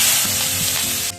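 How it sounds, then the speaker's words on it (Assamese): Onions dropped into the hot oil left over from frying fish give a loud, dense sizzle that holds steady, then abruptly drops away at the end. "ভাজি এতিয়া ৰৈ যোৱা তেলখিনিতে মই এতিয়া ইয়াত মানে পিঁয়াজখিনি দি দিম"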